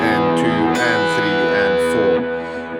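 Electric guitar playing a worship-style part with a delay effect, sustained notes and echoing repeats ringing out loud and close with no talking, the layered tones fading slightly at the end.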